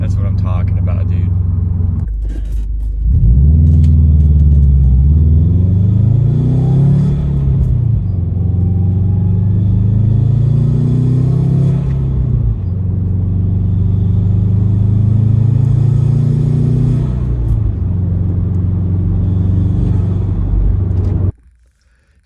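A Subaru WRX fitted with a Grimmspeed cold air intake, its engine revving hard in a loud, sustained run of rising and falling engine tone that lasts nearly twenty seconds before cutting off abruptly.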